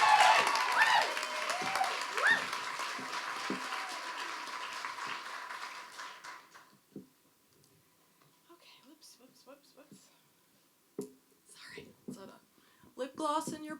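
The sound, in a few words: audience applause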